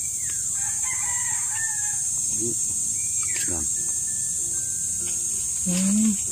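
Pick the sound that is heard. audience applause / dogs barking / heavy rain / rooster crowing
rooster crowing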